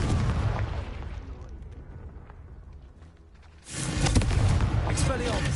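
A Confringo blasting spell explodes in Hogwarts Legacy. The loud, close blast roars and tapers off, then a second heavy burst hits with crackling debris, and a voice can be heard faintly under the noise.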